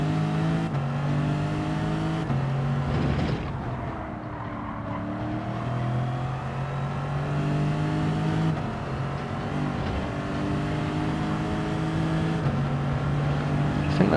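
Racing car engine in a sim racing lap, a loud continuous harmonic drone rising and falling as it revs, with quick gear changes breaking the pitch several times; no talking.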